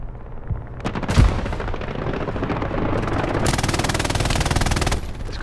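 Dense, loud gunfire in the World War II shooter Hell Let Loose: rapid machine-gun bursts and sharp shots overlapping nearly the whole time, building to a sustained fusillade at the end.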